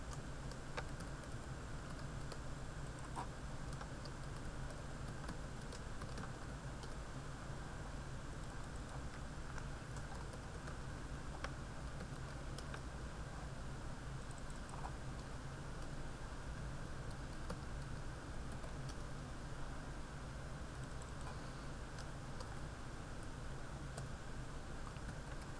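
Steady, quiet typing on a computer keyboard, soft key taps running evenly across the whole stretch over a constant low room hum, with no talking.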